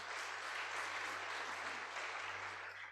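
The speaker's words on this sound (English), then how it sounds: "Please give them a round of applause." Steady, dense applause from the audience at an emergency medicine symposium, a continuous wash of many hands clapping at even loudness throughout, with no talk over it.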